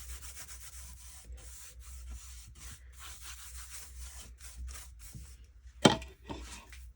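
Clear wax being rubbed by hand onto a thrifted piece painted black and decorated with transfers, giving a steady scratchy rubbing and scuffing with short pauses and one sharp knock near the end.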